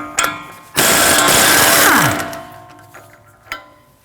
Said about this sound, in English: Remove the axle nut with a 36mm socket.